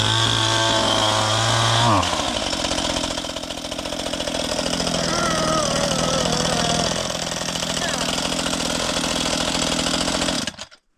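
A small pull-start engine runs loud and steady after the choke is pushed in, its throttle dipping and recovering once before it cuts off near the end, with voices talking over it.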